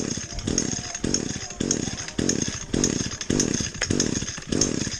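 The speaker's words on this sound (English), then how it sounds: "grab the weed whacker, start it up, and start weed whacking away" A gas-powered weed whacker (string trimmer) runs close by, its two-stroke engine rising and falling in a steady rhythm of about seven surges over five seconds.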